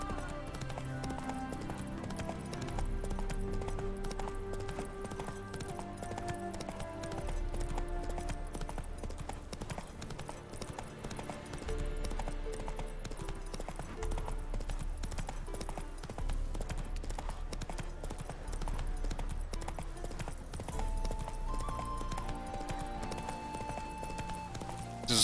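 Geralt's horse Roach galloping in the video game The Witcher 3, steady rhythmic clip-clop hoofbeats running throughout over background game music, with a brief neigh and a little faint talk.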